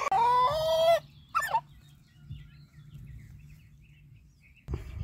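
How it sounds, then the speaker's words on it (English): A chicken with gapeworm makes harsh, strained gasping calls, first one long rasping cry and then a shorter one, close and loud, followed by a quiet stretch and a final brief noise at the end. "Is your chicken making this sound?"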